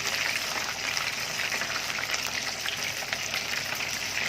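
Dense, steady crackling sizzle of battered fish frying in hot oil in a pan, continuous and close, with no talking.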